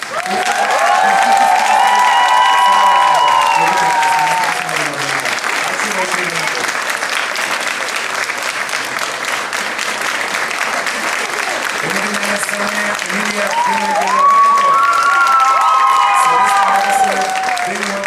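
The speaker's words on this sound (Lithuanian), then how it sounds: "Ir kuklus būsimas artistas Mangirdas, plojimai ir urtei." An audience applauds steadily at a 2010 children's song concert, with clapping filling the whole stretch and a few cheers and shouts rising over it near the start and end.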